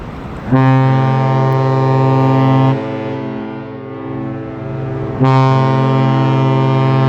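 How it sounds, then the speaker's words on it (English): A loud, steady low horn blast with rich harmonics, sounding twice with a brief softer lull between, like a ship's horn wailing out over open air. "You just hear the siren."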